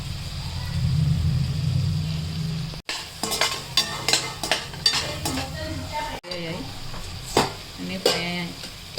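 Cashews and almonds fry in a pan while a spoon scrapes and clinks against the metal in quick, uneven strokes. A low sizzle rumbles briefly at the start, and the clinks continue over a quieter background.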